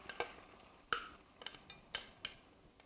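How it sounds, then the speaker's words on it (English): Tomatoes are stirred into a gorgonzola sauce in a pan, with a spoon scraping and clinking against the pan in a series of short, irregular taps over a soft, faint sizzle. "Mix that in"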